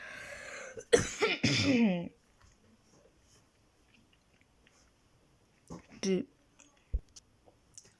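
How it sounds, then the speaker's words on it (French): A harsh, phlegmy cough bursts out near the mic, followed by a quiet stretch, then a shorter throat-clearing rasp and a few faint clicks. "excusez-moi les amis, j'ai toussé"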